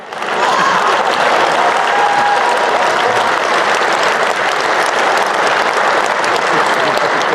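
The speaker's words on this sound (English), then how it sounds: "A big round of applause for the Timu version of me" Audience at a political roast event breaks into a big round of applause, rising quickly and holding loud and dense for several seconds, with scattered faint shouts mixed into the steady clapping.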